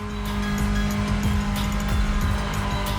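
A BMW sedan in the racing game The Crew Motorfest drives with a steady, loud engine drone while its tires squeal repeatedly. There is no talk.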